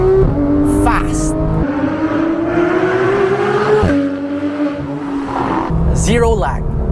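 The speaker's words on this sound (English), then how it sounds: "Now, one last pull. The 7-speed PDK, fast." A 2015 Porsche 911 GT3 (991.1) with a 7-speed PDK gearbox accelerates hard, its engine note climbing in rising sweeps broken by several quick upshifts, loud and close inside the cabin with a voice speaking over it.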